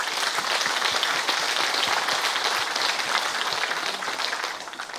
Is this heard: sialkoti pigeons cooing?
no